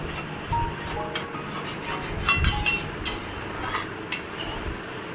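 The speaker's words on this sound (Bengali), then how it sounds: "তারপরে আবার ভালো করে নাড়াতে হবে।" Spice paste being stirred in a cooking pan for a vegetarian potato dish, with a utensil scraping and rubbing against the pan in repeated close strokes and occasional sharper scrapes.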